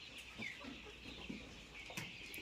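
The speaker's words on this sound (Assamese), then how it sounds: "এইখিনি ডিম পৰা মুৰ্গী হয়।" Local egg-laying hens cluck softly in short, scattered bursts over a steady background hiss, fairly quiet and somewhat distant.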